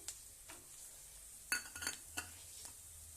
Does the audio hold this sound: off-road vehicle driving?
no